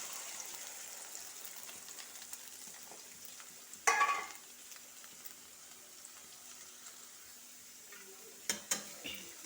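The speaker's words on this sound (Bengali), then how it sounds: "তাই দুটো ডিম ভেজে দেবো ওকে।" Eggs frying in a hot wok give a soft, quiet sizzle, broken by a sharp burst of clatter and spatter near the middle and a few clinks near the end.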